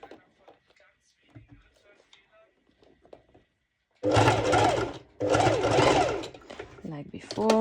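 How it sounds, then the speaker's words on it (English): A domestic sewing machine runs a long straight stitch in two loud close bursts with a brief stop between, after a quieter stretch of handling fabric, with someone talking over parts of it. "Like before, the one straight stitch with the biggest stitch length, so it's easy."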